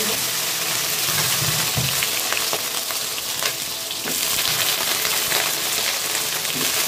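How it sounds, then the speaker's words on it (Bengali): Whole spices for a phoron tempering fry in hot oil, a steady, close sizzle with a few soft stirring scrapes running throughout. "ফোড়নটা গরম ভাজা ভাজা হয়ে গেছে"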